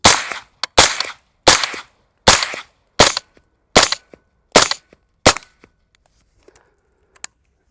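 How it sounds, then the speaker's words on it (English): Eight rifle shots fire through a SureFire SOCOM-300 SPS suppressor, four supersonic rounds with sharp cracks followed by four subsonic ones, evenly spaced and loud, with a faint metallic clink after. "put some rounds through it. Right here, I again have a magazine loaded up with 4 supersonic followed by 4 subsonic"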